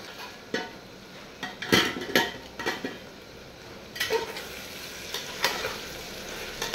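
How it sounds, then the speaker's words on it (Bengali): Chicken and onions fry together in a pan while a metal spatula stirs them, with repeated scraping clatters and bursts of sizzling close up and no voices. "মাংস আর পেঁয়াজ একসাথে ফ্রাই করে দিচ্ছি।"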